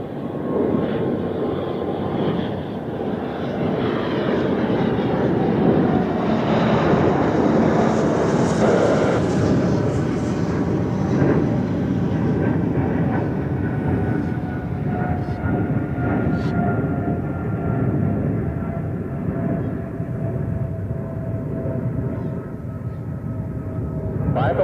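A Bombardier Global 5000 business jet takes off and climbs out at Zurich Airport, a steady broadband engine roar that swells to a peak and then slowly fades as it recedes, with faint distant talk underneath.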